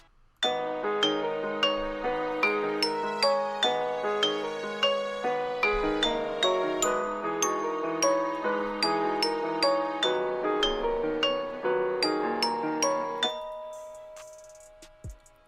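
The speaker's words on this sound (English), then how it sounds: "After the violin, I added this bell, and they play these notes." A bell-like synth in FL Studio plays a melodic beat sequence of bright, ringing notes at a steady pace, each struck tone decaying with a shimmering tail.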